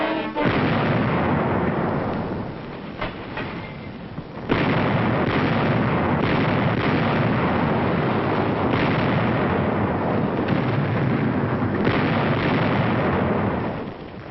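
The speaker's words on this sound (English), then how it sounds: "We landed artillery on the 2 small islands on either side and blasted at close range." A WWII artillery barrage fires at close range during the 1944 battle of Kwajalein, a loud, continuous rumbling roar of blasts with a few sharper bursts and short dips, no voices.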